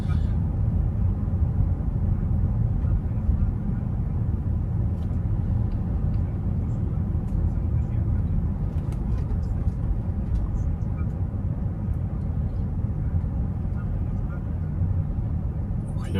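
Driving school car rolling slowly along an exam route in Sarny, with a steady low engine and road rumble throughout and a voice talking over it.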